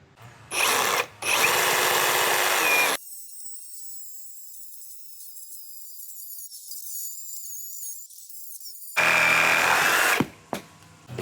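A Milwaukee 12-inch Sawzall reciprocating saw with a non-carbide wood-and-nail blade buzzes loudly in two bursts, stops for a long quiet gap with faint high whine, then cuts again in another harsh burst.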